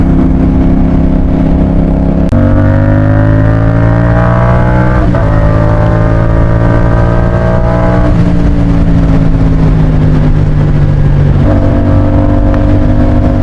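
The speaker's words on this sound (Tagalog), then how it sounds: "drive ka ng retro na motor" Retro motorcycle engine heard while riding at sunset, a loud steady hum with clear tonal harmonics that shift pitch at a few gear changes, close and continuous without voices.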